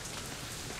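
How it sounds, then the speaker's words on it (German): Steady rain in the video game Deadlight, a dense, even hiss of falling drops with no other sounds, brief and fairly quiet. "Geht schon wieder voll ab hier mit dem Regenwetter."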